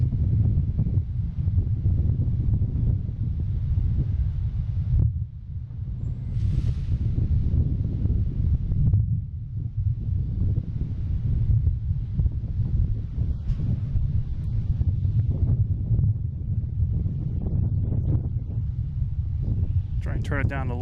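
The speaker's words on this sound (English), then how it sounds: "this wind is wicked" Strong, gusty wind buffets a microphone at Boston Logan International Airport, a constant low roar that swells and dips across the whole stretch, with faint voices mixed underneath.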